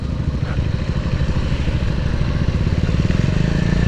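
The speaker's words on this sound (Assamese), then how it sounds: "এতিয়া ইমানখিনি বাইক গৈছে" A group of motorbikes rides together on an Independence Day bike ride near Kaziranga, their engines making a continuous loud, close rumble with slight rhythmic pulsing and no speech.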